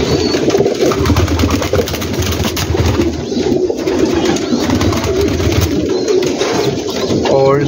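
Pigeons coo throughout a large rooftop loft holding breeder pairs, a dense layer of soft, low cooing close by, with faint engine noise behind.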